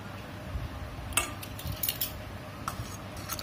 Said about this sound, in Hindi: पहले इसको मिक्स करते हैं।